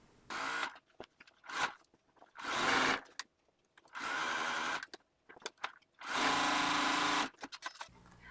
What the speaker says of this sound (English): all I have to do is sew my 1/4 inch along, and my binding is totally on and ready to go